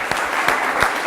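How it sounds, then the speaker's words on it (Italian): Studio audience applause on an Italian television quiz show, a steady burst of clapping at close range with no talk over it. "però non c'è neanche un applauso per Monia"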